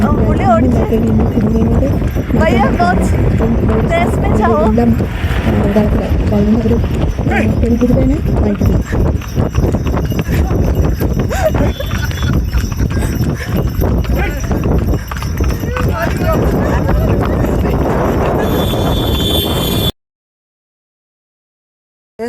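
Horse hooves clip-clop steadily on a mountain trail in Sonamarg, Kashmir, a close, loud rhythmic clatter with occasional snorts, heard under ongoing talk for about twenty seconds before cutting to silence.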